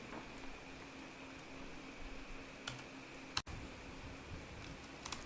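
Faint, close keyboard taps entering a console command in Farming Simulator 25, a few scattered keystrokes over a steady fan-like hiss, with one sharp click partway through and no talking.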